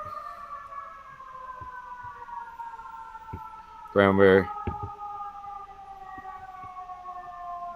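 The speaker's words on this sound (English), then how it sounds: "Can you hear the sirens?" Long, slowly falling siren tones drone steadily in the background while a brief spoken word cuts in near the middle.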